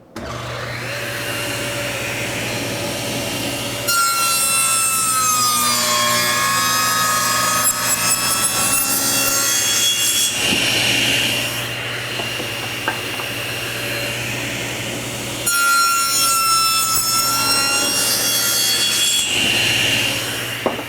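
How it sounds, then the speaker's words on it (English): A table saw with an alternate bevel blade cuts a wooden tenon, one pass on each side: two long, loud whining cuts over a steady motor hum, with no talk. "raise the blade just to that height. I'll take one pass, flip it around, take a pass on the other side."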